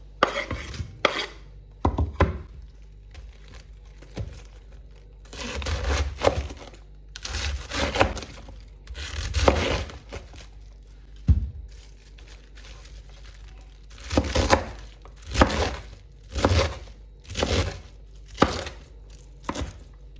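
A knife chops young spring cabbage into squares on a cutting board for a Korean-style cabbage salad, giving sharp, irregular thuds with short gaps and crisp crunching between strokes, close and clear.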